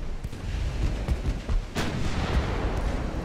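Distant naval gunfire in Ultimate Admiral: Dreadnoughts, where battleships and battlecruisers exchange salvos: a steady low rumble broken by several dull booming shots, one sharper blast near the middle, with no voices.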